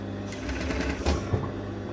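A sewing machine runs a short, steady burst while stitching a sleeve seam with no back tack, a close whirring hum with quick needle clatter and a small thump near the end.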